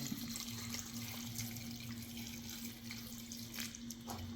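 Steady running water streams into a pot for cooking dried tapioca and chickpeas, a continuous close splashing flow with a low hum underneath.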